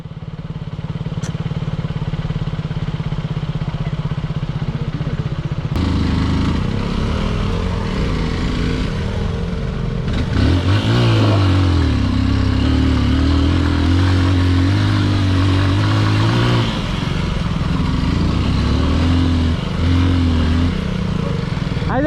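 A motorcycle engine drones steadily on a Saturday ride, then revs and accelerates with rising and falling pitch, loud and close with wind rush and occasional rattle, no voices heard.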